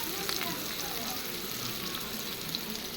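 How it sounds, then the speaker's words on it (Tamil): Ingredients for vegetarian mutton chukka sauté in hot oil with a steady, even sizzle that fills the clip, and a voice is faintly present underneath. "ஒரு முக்காப்பதம் வர வரைய வதக்கிற வேண்டியது"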